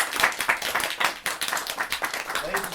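A parlor audience at a poetry reading breaks into dense, lively applause right after a poem ends. Quick, overlapping claps fill the room with a few voices mixed in.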